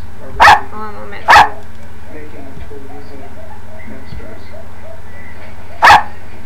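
A dog gives three sharp, loud barks, two close together near the start and one more after a long pause, over a steady low hum and faint background voices.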